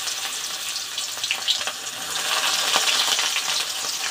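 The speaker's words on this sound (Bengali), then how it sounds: "এখানে আমি কালো জিরা এবং জিরা তেলের ভিতর দিয়েছি। এখন পেঁয়াজ কাঁচামরিচ দিয়ে দিব।" Nigella seeds, cumin, onion and green chili sizzle steadily in hot oil, a loud continuous frying crackle with occasional stirring, alone without talk.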